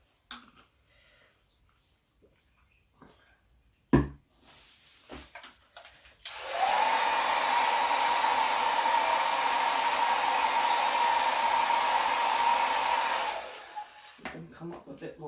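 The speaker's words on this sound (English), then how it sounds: "I use my hair dryer to pop them." A hair dryer blows on poured acrylic paint for about seven seconds, a loud steady whooshing roar that starts abruptly and fades off, preceded by a few soft taps and handling sounds.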